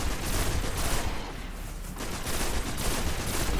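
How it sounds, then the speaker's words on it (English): Sustained auto rifle fire in the video game Destiny, loud and close, in long continuous bursts with a brief dip partway through before the firing resumes. "You run an auto rifle now?"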